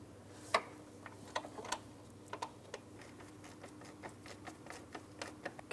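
A 10mm mounting bolt on the radiator fan assembly of a 2004-2008 Pontiac Grand Prix 3.8L V6 is tightened with quick, faint ratchet clicks in uneven bursts against a quiet background, with no talking.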